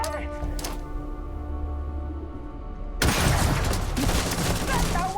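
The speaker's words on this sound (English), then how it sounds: "Shooting me without even standing up." Video game gunfire in Starfield, a sudden burst of rapid, loud shots and impacts in the second half, following a quieter stretch of steady game ambience.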